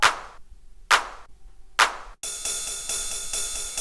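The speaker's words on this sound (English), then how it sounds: "We have this 909 clap" Three sharp, bright Roland 909 drum machine clap hits for hard house ring out alone at an even, spaced pace, each decaying quickly into silence, followed by a sustained, buzzy synth tone.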